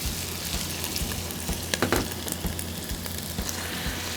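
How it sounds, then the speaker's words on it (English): Chopped onion sizzles steadily in melted butter in a pan, a close, continuous frying crackle with no talk over it. "we're gonna add our roughed chop onion. Let that start to sweat down a little bit."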